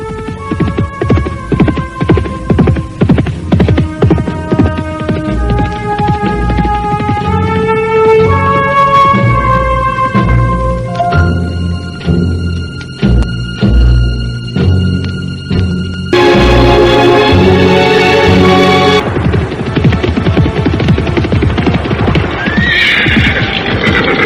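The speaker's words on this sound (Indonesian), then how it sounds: "Akhirnya kuda itu bersama penunggangnya memasuki sebuah perkampungan." A horse with a rider clip-clops steadily at a trot into a village and gives loud neighs and whinnies, set against a continuous throbbing hum and musical tones in a radio drama.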